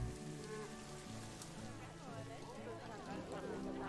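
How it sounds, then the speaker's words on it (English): Rain falls steadily in the zoo-building video game Planet Zoo, a continuous hiss under game sounds while a person talks over it. "and it's raining."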